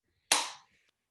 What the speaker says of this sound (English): This is the final clap of your Wagon Bootcamp.